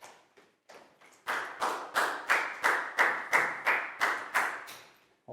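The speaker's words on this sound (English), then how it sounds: "high five and a big round of applause for Bangpon, please, guys." A classroom of young pupils claps for a classmate, a loud run of about a dozen sharp, evenly spaced claps after a few scattered early ones, with no talking over it.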